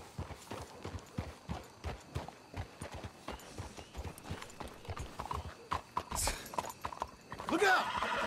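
Horse hooves clip-clopping in Red Dead Redemption 2, a steady run of close, regular hoofbeats throughout, with a horse whinnying near the end over a louder burst of commotion.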